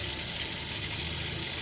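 Water is poured from a tap or jug over cut, washed potatoes that were salted and splashed with vinegar, a steady soft splashing hiss throughout, fairly quiet.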